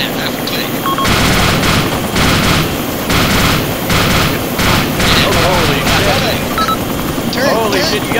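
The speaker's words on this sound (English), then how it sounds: "you guys are under fire" Sustained heavy gunfire in the military game ArmA 2, continuous loud bursts of automatic fire with booms layered over one another, and players talking throughout.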